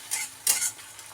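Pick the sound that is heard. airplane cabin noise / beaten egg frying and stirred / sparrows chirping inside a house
beaten egg frying and stirred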